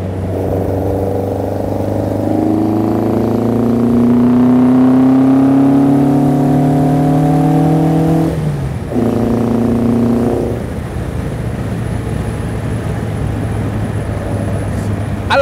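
A Morgan 4/4 sports car engine pulls hard and close, its note climbing through the gears as it drives over a level crossing, then dipping briefly and carrying on steadily with road and wind noise.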